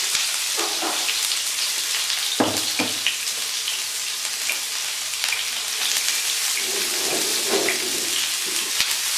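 Onions frying in a pan for tawa chicken, a steady broadband sizzle with occasional louder pops and stirring scrapes, close and continuous with no talk.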